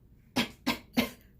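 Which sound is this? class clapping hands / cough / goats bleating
cough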